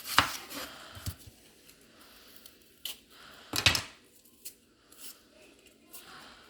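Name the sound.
knife chopping Spanish or Vidalia onions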